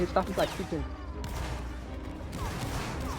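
Musket volley fire in a multiplayer Napoleonic-era line battle video game, with several sharp overlapping shots near the start, then a dense crackle of distant gunfire and general battle noise, with voices talking over it.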